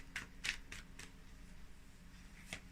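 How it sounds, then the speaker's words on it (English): Tarot cards shuffled by hand in a few brisk bursts of papery riffling, close and fairly quiet, with short pauses between them and no talk. "A couple more shuffles for Pisces."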